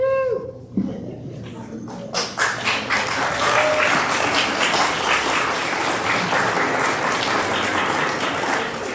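A crowd at a dog team graduation bursts into loud, sustained applause after a brief quieter moment, with scattered cheers and a few dog whimpers and howls mixed in.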